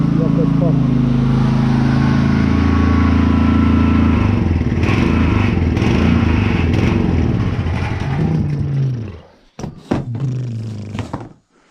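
A motorcycle engine running outdoors in winter frost at minus seven degrees, a loud, steady idling rumble whose tone shifts partway through, then clatters and cuts out near the end.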